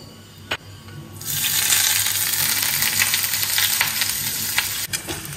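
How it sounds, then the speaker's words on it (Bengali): Ginger and green chili paste hits hot oil in a pan after a brief clink, then sizzles and crackles loudly and steadily, a close, continuous frying hiss with no talk over it. "আদা কাঁচা লঙ্কাটা একটু ভেজে নিলাম।"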